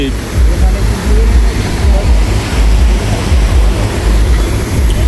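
Loud, steady rush of floodwater pouring from a waterfall into a swollen river at Tolaghat, heavy low roar with wind buffeting the microphone throughout.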